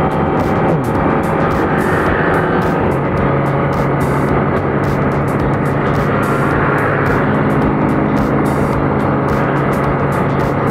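A Kawasaki ZX25R motorcycle cruising on the road, its engine a loud, steady, continuous drone with wind roar and no clear breaks between gears.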